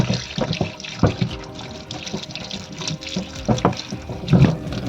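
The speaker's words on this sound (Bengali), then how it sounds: "বেলটা আমি ধুয়ে নিচ্ছি" A large wood apple (bel) is rinsed under a running tap, with water splashing and gushing steadily over the fruit and hands, and intermittent louder splashes and handling knocks close by, without any talk.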